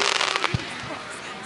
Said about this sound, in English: You can tell it's a firework